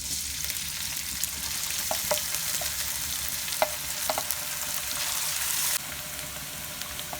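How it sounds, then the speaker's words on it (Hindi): Oil heats in a kadhai for aloo ka bharta with a steady, close sizzle and crackle, dotted with small pops and a faint stirring clink, and no talking. "कढ़ाई में ऑयल डाल के इसको गर्म कर लेते हैं।"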